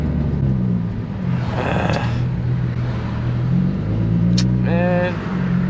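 A turbocharged Nissan Z car accelerates while losing boost, its engine a loud, steady droning roar heard from inside the car, with brief higher whining or whooshing bursts partway through and again near the end.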